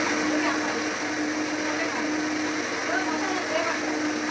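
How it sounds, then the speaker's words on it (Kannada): A kitchen mixer grinder whirs steadily at close range, a constant motor drone that never lets up, with household voices faintly underneath. "ಅಯ್ಯೋ ಮಿಕ್ಸಿ ಸೌಂಡು."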